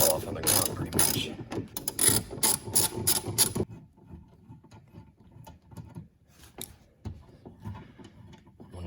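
Hand ratchet spinning off 10 mm nuts holding the side mirror of an old Chevy Venture, with a dense run of quick clicking bursts over the first few seconds, then sparse faint clicks and handling noises.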